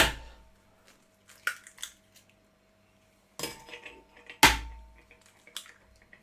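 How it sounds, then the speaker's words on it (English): Eggs cracked against a flat kitchen surface while making fresh pasta dough: two sharp, close knocks with short clattery tails, separated by quieter handling noises. "The best way to crack an egg is not on the side of a bowl, but on the flat surface."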